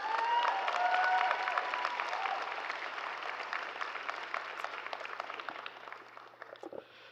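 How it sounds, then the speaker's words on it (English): At a high school commencement, the audience applauds educators with a full, sustained patter of clapping and a few faint cheers, steady at first then thinning slightly toward the end. "Let's give a huge round of applause to these magnificent educators"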